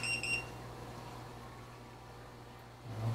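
A Joule sous vide cooker gives a short electronic beep as it starts, a brief high tone at the very start, then a quiet steady hum remains.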